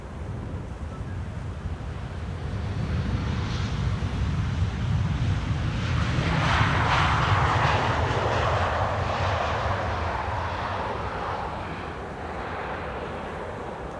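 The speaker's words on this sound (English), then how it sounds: "KLM 737 in the meantime landing here" A KLM Boeing 737 landing from Milan produces a broad engine roar that swells as it passes closest, then gradually fades, with some wind noise on the microphone.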